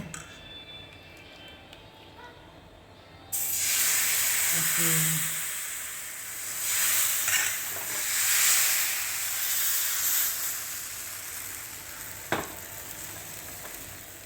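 Dosa batter hits a hot frying pan and bursts into a loud, steady sizzle that swells and fades gently over several seconds after a quiet start, with one sharp tap near the end.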